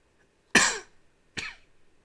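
Two sharp human coughs about a second apart, the first louder and longer, close to the mic in a quiet room during a duplicate Scrabble game.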